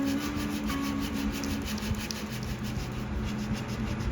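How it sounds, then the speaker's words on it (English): Hand sanding on a pine guitar body over spots repaired with CA glue: a steady, close rasping scrub that continues without pause, with no talking. "I'm sanding away here at those spots that I've fixed with the CA glue."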